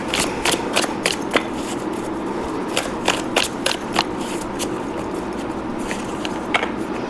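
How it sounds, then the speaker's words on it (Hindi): Tarot cards being shuffled in a quiet room, a steady run of soft papery riffles and light snaps repeating over several seconds with no voice over them. "Let me shuffle these"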